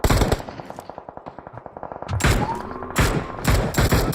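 Rapid automatic gunfire bursts in PUBG Mobile, a fast regular stream of shots followed by louder, echoing volleys and single heavy reports, close and dominant with no voices over it.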